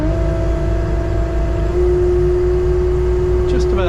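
A TopCat mulcher's engine runs at high RPM, a loud, steady mechanical drone with a constant whine on top that holds throughout, ending in a brief higher squeal.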